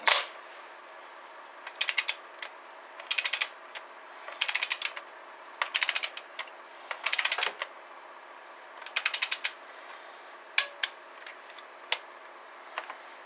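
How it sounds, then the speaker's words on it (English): A ratchet tightens the injector bolts on a Cummins common-rail engine, giving repeated short bursts of fast clicking with brief pauses between strokes, close and clear against a quiet background. "we're going to go ahead and get them tightened down to 18 foot-pounds"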